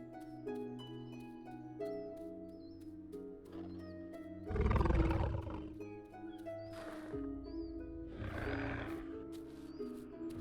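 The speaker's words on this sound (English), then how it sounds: "I heard an adult Carno call out in the distance." An adult Carnotaurus in the survival game The Isle Evrima calls from the distance, two loud, broad roaring bursts rising over a steady musical score, with no talking.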